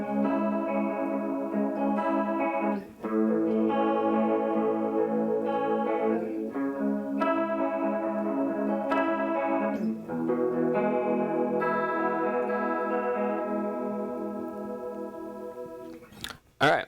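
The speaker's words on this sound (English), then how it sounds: "So this is sort of the deep chorusing effect." Electric guitar run through a harmony pedal set to its deep chorus mode, with sustained chords and picked notes swirling and shimmering continuously for about sixteen seconds, played alone without talk.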